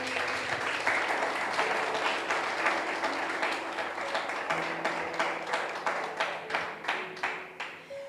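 A church congregation claps loudly in sustained applause during a worship service, dense and steady before thinning into separate claps near the end.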